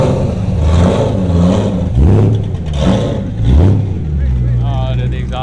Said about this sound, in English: That thing is just chopping,